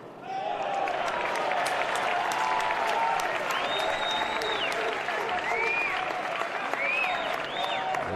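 Georgia home crowd at an NCAA baseball regional final cheering and applauding, steady and loud with whistles and shouts rising above the clapping throughout.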